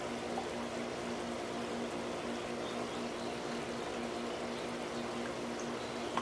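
Water churning steadily in a bucket of compost tea as an air pump agitates it, a continuous close bubbling wash with a faint hum beneath, no talking.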